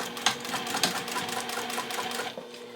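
A sewing machine top stitching vinyl, running steadily at close range with a rapid mechanical chatter and a couple of sharper clicks, with no voices.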